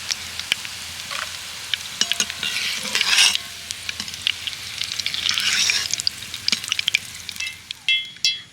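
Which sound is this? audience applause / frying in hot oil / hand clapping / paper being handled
frying in hot oil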